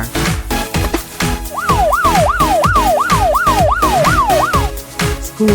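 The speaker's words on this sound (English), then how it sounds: "Police car." A toy police car siren yelps in quick repeated rising sweeps, about ten in a row, loud and close over steady background music.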